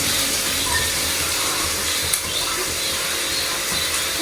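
Onion sizzling and frying in hot coconut oil in a pan, a steady close hiss with a brief louder crackle midway.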